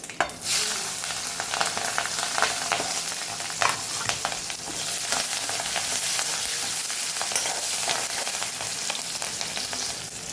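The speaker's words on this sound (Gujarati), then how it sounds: "મરચાં થોડા આપણા સતળાઈ ગયા છે" Green chillies fry in hot oil tempered with mustard seeds and asafoetida, making a dense continuous sizzle with crackling pops and occasional stirring clicks, steady and close throughout.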